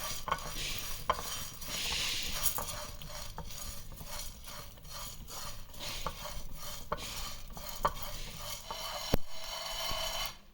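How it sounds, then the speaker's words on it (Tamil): Coriander seeds, cumin, pepper and fenugreek dry-roasting in a pan, with continuous scraping and rattling as a utensil stirs the dry spices, punctuated by frequent light knocks and a faint sizzle. "ஒரு பேனில் தனியா ஜீரகம் மிளகு வெந்தயம் எல்லாத்தையும் சேர்த்து நல்லா வாசனை வர்ற அளவுக்கு வறுத்து எடுத்துக்கலாம்"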